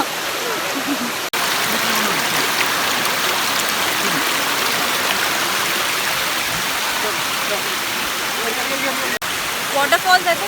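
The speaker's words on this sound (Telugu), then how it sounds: "వాటర్ ఫాల్స్ అయితే చాలా డెప్త్ వరకు ఉంది" The Ananthagiri Hills waterfall in Vikarabad pours in a constant, even rush of water, close and loud, with brief dropouts and a voice faintly audible near the end.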